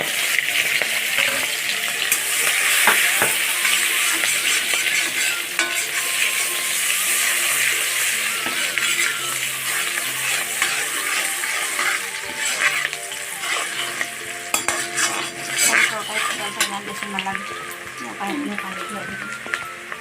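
Onion and green chilli sizzle and hiss in a wok (kerahi) while being stirred, a steady close frying sound with occasional scraping and a voice talking over it.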